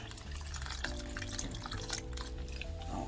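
Water pours into a pot of thick Jamaican-style stew peas with shrimp and saltfish, a continuous liquid splashing and trickling against steady background music.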